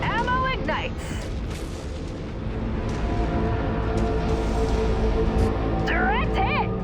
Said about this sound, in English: Ammo ignites.